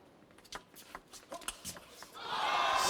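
Spectators at a men's singles table tennis grand final between Ovtcharov and Fan Zhendong murmur and shuffle, with scattered claps and calls that swell near the end into a loud, sustained roar of crowd noise and applause.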